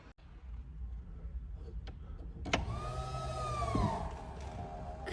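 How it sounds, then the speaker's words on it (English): Power convertible top of a 1993 Saleen Mustang Spyder rising, a moderately quiet electric motor whine with a rising tone and a mechanical clunk near the end, over a low idling background. "there's the top going up"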